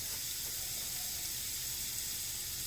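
Shrimp marinade and red pepper flakes hit hot oil in a pan, producing a steady, dense hiss of sizzling that stays even and fairly quiet throughout.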